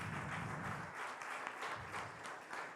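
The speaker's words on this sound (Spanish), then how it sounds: "quiero que por favor reciban con fuerte aplauso a Patricio" Audience applause at a church gathering welcoming a guest named Patricio, a brief continuous patter of clapping heard at a distance, fairly faint.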